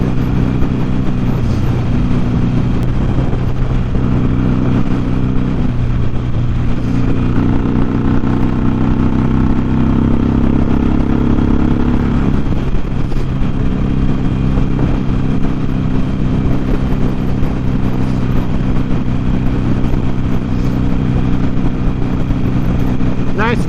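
Motorcycle with one working headlight out for a commuting ride, its engine drone steady and continuous beneath wind rush throughout, close and loud with a few shifts in pitch as it speeds up.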